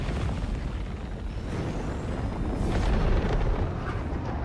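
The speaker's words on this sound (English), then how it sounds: "Nuke nursery explosion? I see it." A nuke nursery blast in the shooter Helldivers 2 rumbles as a sustained heavy explosion, a loud broadband roar with deep low-end boom that swells slightly and lingers for several seconds.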